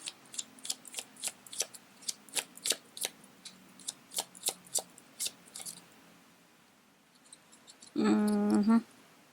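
A run of crisp, rhythmic riffling snaps as tarot cards are shuffled, close and quiet, followed by a short tonal buzz near the end.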